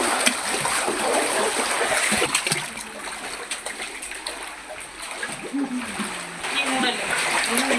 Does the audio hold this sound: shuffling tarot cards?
no